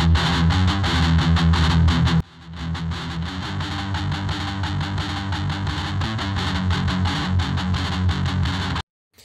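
A processed electric guitar track plays through Kush Audio UBK-1 presets, loud and distorted with chorus-like coloring, a brief dropout near two seconds before the riff resumes and then cuts off near the end.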